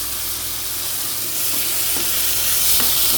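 Garlic and onion sautéing in a pan for fried rice with ampalaya, a loud, steady, close sizzle with a few faint stirring scrapes and no voices.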